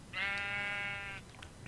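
Donkey in Minecraft gives one drawn-out, harmonically rich bray lasting about a second, loud and close, standing alone over faint game background.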